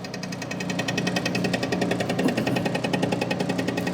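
A milling machine running at about 600 RPM bores out a broken radial arm saw casting, giving a steady, loud mechanical hum with a fast regular rattling chatter throughout, no voices.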